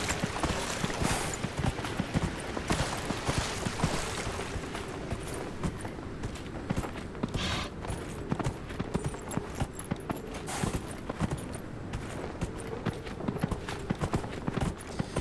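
Horse hooves clip-clopping steadily while riding in Dragon Age: Inquisition, a continuous rhythmic trot of soft thuds at moderate distance, alone without talk.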